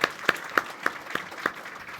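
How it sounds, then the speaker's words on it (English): An audience at an evening science panel event claps as panellists come up on stage, a few distinct claps ringing out in a slow, spaced rhythm over a faint background. "Let's give them a round of applause as they come up."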